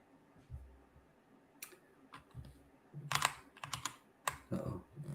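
Quiet scattered typing on a computer keyboard, sharp close key clicks in irregular short bursts with pauses between them, no voices.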